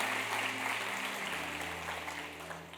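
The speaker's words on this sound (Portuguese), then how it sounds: "Você pode aplaudir ao Senhor" Church congregation clapping together at a Portuguese-language worship service, a steady broad wash of applause that fades slightly toward the end, with a low sustained musical tone underneath.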